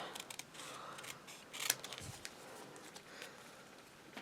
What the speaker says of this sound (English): we'll just go around, fussy cut a little border around it